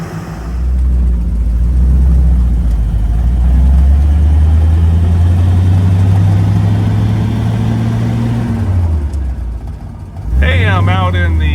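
A 1938 Ford convertible coupe engine idles with a steady low drone, shifts in pitch, drops briefly, then catches again near the end. Someone talks throughout.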